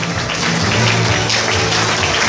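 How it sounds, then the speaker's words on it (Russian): An audience at a children's dance show claps for the competition judges, a dense, steady applause that fills the hall. "Под ваши аплодисменты"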